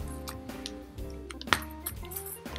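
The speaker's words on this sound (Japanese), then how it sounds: "実際にちょっと小銭入れてみます。" Coins, including 500, 100, 10 and 5 yen pieces, clink as they drop into a small abrAsus coin purse that snaps shut, producing several close, light metallic taps and chinks.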